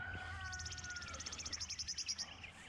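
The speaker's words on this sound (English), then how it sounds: "Birds" Small birds chirp and twitter outdoors beside a greenhouse under construction on a wet, rainy day, a rapid run of bright repeated calls building toward the end over a low steady background hum.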